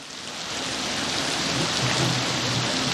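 Heavy rain from Hurricane Delta falls as a dense, steady roar, loud and continuous with no talking.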